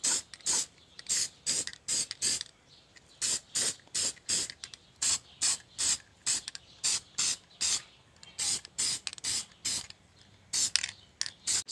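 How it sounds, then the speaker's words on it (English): An aerosol can sprays paint onto a Honda CRX trailing arm in short hissing bursts of about half a second each. The bursts repeat at an irregular rhythm, close and fairly loud, with brief quiet gaps between passes. "I'm gonna go ahead and give it a few more coats of paint"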